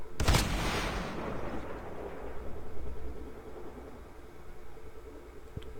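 A Thermite Mag hit effect on a Mythic Rytec Nautilus in a video game: a sharp blast at the start that trails into a long rumbling, hissing decay fading over several seconds.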